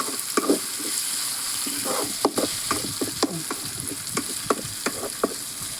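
Tomatoes frying in a pan for a soybean varattiyathu, stirred with a spoon: a continuous sizzle punctuated by frequent clicking scrapes of the utensil against the pan, close and fairly loud.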